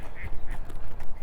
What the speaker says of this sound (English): geese and ducks.